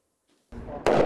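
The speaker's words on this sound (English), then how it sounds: "Gunfire near Aleppo's front line and hours of explosions too." Gunfire near the front line in Aleppo, Syria: a faint pop is followed by a sharp loud report and then a second, heavier blast, close and booming with no voices.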